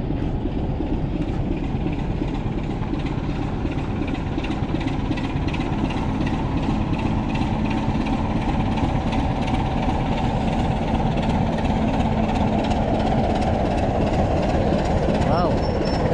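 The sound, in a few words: steam train setting off from Aviemore station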